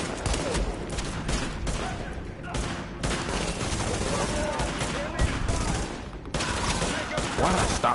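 Sustained heavy gunfire from The Division, dense overlapping automatic bursts filling the whole stretch with brief dips, loud and continuous, with voices talking underneath at times.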